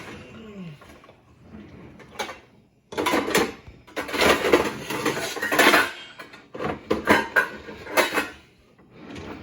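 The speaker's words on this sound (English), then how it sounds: "I'm going to find a lid." Someone rummages through kitchen pots, pans and drawers hunting for a lid while making goulash: bursts of clanking metal, sliding drawers and rattling cookware in irregular clusters, close and fairly loud, with pauses between.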